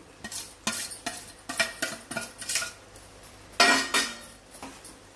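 A metal spoon scrapes and clinks against a pan while stirring potato and tomato curry with garam masala and cumin, making irregular, close knocks and scrapes with brief pauses and no talking.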